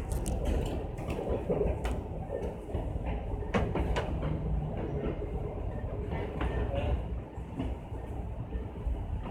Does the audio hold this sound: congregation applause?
no